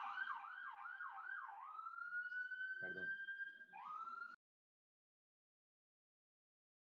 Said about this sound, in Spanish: Pasó la ambulancia.